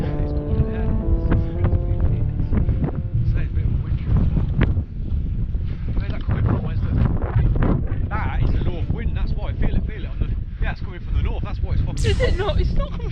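Strong wind buffets the microphone on Pendle Hill, a constant loud rumbling roar with gusty bursts, while people talk nearby.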